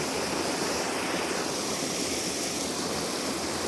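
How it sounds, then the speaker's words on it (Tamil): Water pouring from Mamandur lake near Kanchipuram, a steady broadband rush like surf or a weir outflow, loud and continuous throughout with no voices. "எவ்வளோ தண்ணி போகுது"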